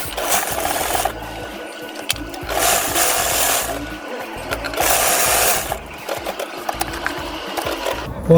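A sewing machine stitches a Kente shirt in short bursts, each run of rapid needle chatter lasting about a second, separated by pauses with rustling fabric handling, close up.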